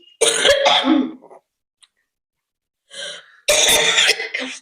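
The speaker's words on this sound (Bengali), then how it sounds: "কাশি শুরু হয়ে গেছে, প্রচন্ড ঝাল" Someone coughs and clears their throat after eating very spicy small chilies at a vegetarian food-eating challenge: two loud, close bursts of hacking separated by a short silence.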